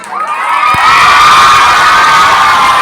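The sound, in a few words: audience clapping and cheering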